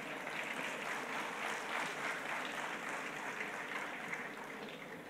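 Steady, dense clapping from an audience at a talk on managing market volatility, a continuous roar of many hands at even loudness throughout, with no voices over it.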